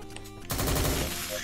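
Gunfire erupts in the video game Road Defense Outsiders, a tower defense horde survival game: after a brief musical lead-in, a sudden dense burst of rapid shots and impacts sustains loudly for about a second.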